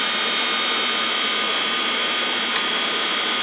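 A modified electric motor spins a fan at about 2055 RPM, making a steady high-pitched whir with broadband airy rush. It is loud and constant, with no talk.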